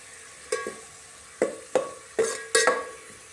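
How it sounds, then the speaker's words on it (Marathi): Masala sizzling in oil while being stirred, with five sharp scraping strokes against the pan over a low background hiss, close and without talk. "भाजून लाल मस्त पैकी तेल सुटपर्यंत भाजायचं"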